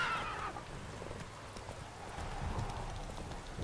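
Roach, the horse in The Witcher 3 video game, gives a short whinny at the start, then hooves clop under a soft steady rain-like wash for a few seconds, with no talking.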